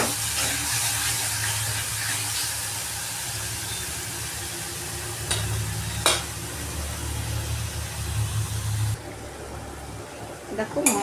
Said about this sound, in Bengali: তাই দেখো এটা ভালো করে আমি 10 মিনিট নাড়িয়ে চাড়িয়ে ভালো করে কষিয়ে নেব।